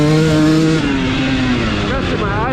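A 2023 Gas Gas MC250 two-stroke dirt bike screams loud and close during track laps, its engine pitch climbing, dropping with a gear change, then rising again.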